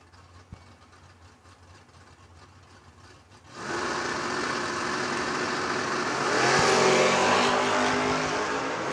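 Drag racing cars at a track, Liggett's wagon and France's Camaro, rumble at a distance before a loud engine roar swells suddenly and climbs further as they launch and accelerate, with no talk.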